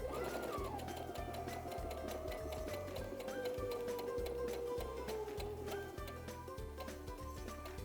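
A sewing machine stitches down quilt binding with the needle in center position, giving a fast, steady mechanical chatter of regular stitch pulses close up, running continuously without speech.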